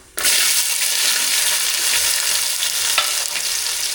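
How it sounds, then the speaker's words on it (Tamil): Fenugreek seeds and small shallots hit hot oil in a pan for a fish curry, bursting into a loud, close, continuous sizzle that starts abruptly and crackles steadily. "எண்ணெய் சூடாயிடுச்சு வெந்தயம் சேர்த்துக்கலாம் இது கூடயே வந்து சின்ன வெங்காயம் சேர்த்துக்கலாம்"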